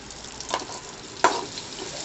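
Onions with asafoetida sizzle steadily in a hot pan, with a couple of sharp scraping clicks as they're stirred partway through.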